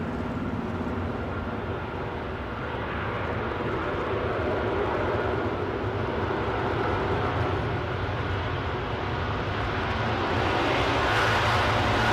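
A Boeing 777 airliner, an American Airlines departure to Miami, rolls for takeoff at London Heathrow, a loud, sustained jet roar that builds slowly and steadily over twelve seconds with no voices.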